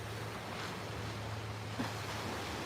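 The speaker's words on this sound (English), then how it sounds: "I love the sound of the waves as they crash" Ocean waves crashing on a beach, a continuous soft roar of surf with one faint surge partway through, under a low steady hum and wind, with no talking.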